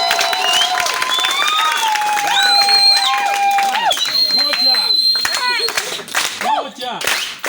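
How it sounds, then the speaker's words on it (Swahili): A crowd at an outdoor political rally claps and cheers when asked, a dense burst of applause blended with whistling and shouting voices that thins out toward the end. "Piga makofi ndio nione."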